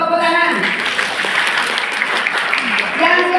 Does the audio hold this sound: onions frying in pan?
no